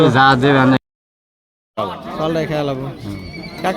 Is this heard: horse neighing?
yes